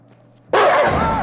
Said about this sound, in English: Touch the dog, touch the dog.